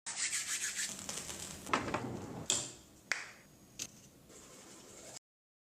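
A cartoon character in a Looney Tunes–style episode scrubs his teeth with a manual toothbrush, making a rapid, raspy bristle scrubbing sound broken by a few sharp ticks and strokes before it cuts off abruptly.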